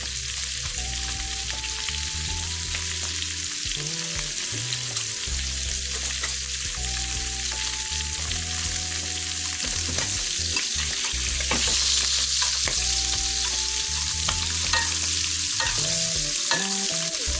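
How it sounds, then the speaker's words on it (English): Garlic butter steaks sizzle steadily in a pan while being basted, a constant crackling fry with repeated scraping and clinking of the spoon over it. "Here I was basting the steaks"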